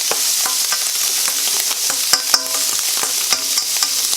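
Drained ground meat sizzling in a frying pan while being stirred, with steady hissing frying noise and repeated scraping clicks of the utensil against the pan, close and fairly loud, no voices.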